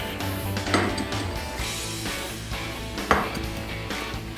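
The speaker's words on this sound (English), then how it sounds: "The oil and grease are scraped out into the garbage." A utensil scrapes oil and grease out of a stainless steel frying pan into the garbage, with repeated metallic scrapes and clinks and two sharper knocks against the pan, close by with no talking.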